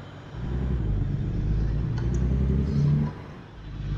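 A heavy truck engine in American Truck Simulator pulls away in first gear, a low rumbling drone that swells and revs for a few seconds before easing back, with no talking.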